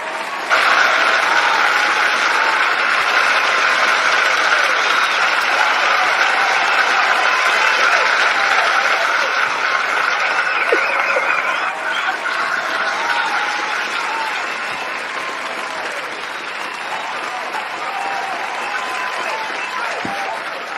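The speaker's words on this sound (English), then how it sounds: "It's claps all the way around because my sister's in the building." A live audience claps loudly and continuously, a dense sustained patter that eases slightly toward the end, with faint crowd voices underneath.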